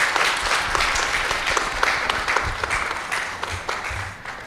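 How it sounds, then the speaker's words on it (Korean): A church lecture audience claps loudly at a letter-reading event, warm dense applause for a deacon, steady and close throughout with no talk. "김경원 집사님께 크게 박수 부탁드립니다."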